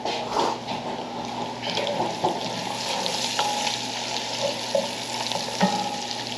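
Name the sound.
bacon frying and sizzling in a pan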